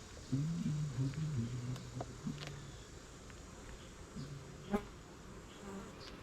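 Honey bees buzz around an open beehive while honey supers are being pulled. Several individual insects drone close by as they pass, over a quiet outdoor background.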